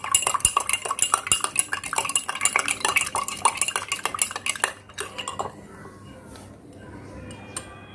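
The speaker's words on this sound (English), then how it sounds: "Stir it. See, some particles of sugar is still there to dissolve." A spoon stirs sugar into water in a glass, rapid bright clinking and tapping against the glass for several seconds before fading to quieter, occasional ticks.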